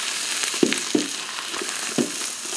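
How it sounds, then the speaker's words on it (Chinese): Pickled cabbage (suancai) stir-fries in a pan, a loud steady sizzle throughout with three or four sharp spatula scrapes and knocks at irregular intervals. "炒酸菜。"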